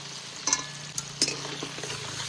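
Silver carp fish oil melting in a hot kadai with spices, a steady soft sizzle with a few sharp clinks and stirring taps, close and fairly quiet.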